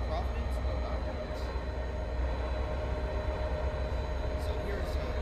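An MBTA train in Train Sim World 5 runs with a steady low rumble and droning hum, plus faint higher whines and light clicks, continuous and even throughout.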